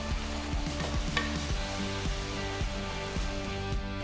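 Egg pepper masala simmering and sizzling in a pan while a spoon stirs it, giving steady bubbling fry noise with repeated scraping strokes against the pan, close and continuous, with no talk.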